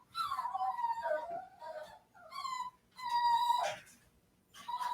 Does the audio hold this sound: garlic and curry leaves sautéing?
no